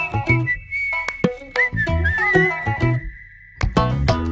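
A bright whistled melody from a Malayalam film song in Njandukalude Naattil Oridavela, with long sustained and gliding notes carried over plucked instrumental accompaniment.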